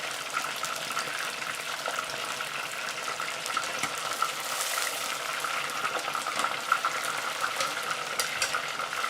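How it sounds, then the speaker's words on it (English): Pork for guo bao rou frying in a deep fryer, a steady bubbling sizzle with fine crackles and pops running continuously, close and fairly loud, no talking. "I hope the fryer's not too loud tonight."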